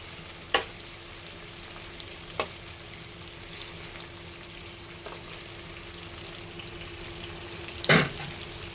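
Boiled bottle gourd goes into a pan of chicken and fries with a steady, low sizzle. A few sharp clinks of stirring stand out, with one louder scrape near the end.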